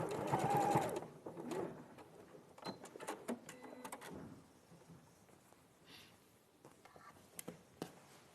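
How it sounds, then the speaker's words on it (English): A sewing machine runs in short bursts as it tacks within a seam allowance, the first stretch loudest and later stitching fainter and intermittent, with quiet handling noises and low talk in a live sewing session. "when you're machine tacking, you're going to sew within the seam allowance"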